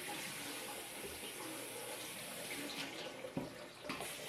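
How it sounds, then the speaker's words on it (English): Raisins and currants rinsed under a running kitchen tap, a steady faint wash of water with a few brief splashes near the end. "I'll just wash my raisins"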